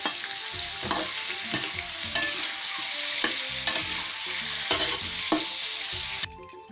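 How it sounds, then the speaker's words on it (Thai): Squid stir-fried in a hot pan for a Thai basil and chili paste dish, a steady loud sizzle broken by repeated scraping and clanking of a spatula at irregular intervals, with no voices. "จากนั้นก็ เทปลาหมึกลงไปผัดนะครับ"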